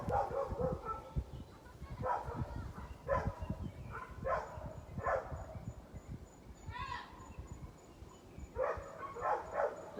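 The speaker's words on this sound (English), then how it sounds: "Lots of yelling and barking dogs going on" Several dogs bark in scattered bursts at a moderate distance, with yips and whimpers mixed in, over a busy background of noise and faint voices.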